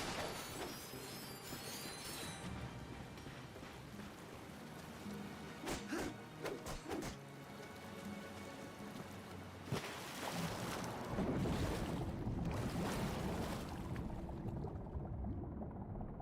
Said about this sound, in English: I think it might be this waterfall.